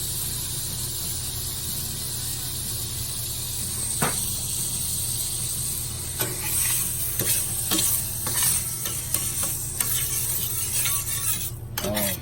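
Ribeye steaks searing in hot olive oil and butter on a Lonestar 20x42 griddle, a loud, steady sizzle and crackle with occasional sharper pops, no voices.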